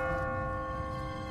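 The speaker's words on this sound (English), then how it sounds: "What kind of church bell goes off at 20 past the hour?" A church bell rings on an automatic timer in a deserted city in The Walking Dead video game, a loud sustained metallic tone with rich ringing overtones filling the whole moment, no voices.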